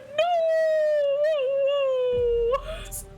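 Voices imitate howling creatures during a Pathfinder Second Edition tabletop game, one long wavering howl that bends in pitch, with a breathy, noisy voice entering near the end.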